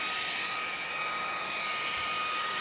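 A eufy E20 handheld vacuum with a brush attachment cleans cloth car seats, running as a steady loud high-pitched whine with a constant airy rush and no talking.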